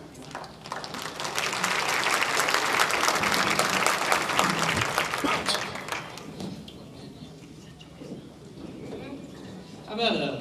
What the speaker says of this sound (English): Big round of applause for the band.